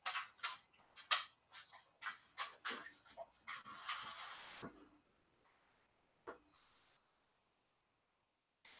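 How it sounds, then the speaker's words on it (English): Dogs pace restlessly around a room indoors, making quiet snuffling and scuffling sounds in irregular bursts that fade to near silence, with one last short noise. "The dogs are back here pacing because they think it's dinner time."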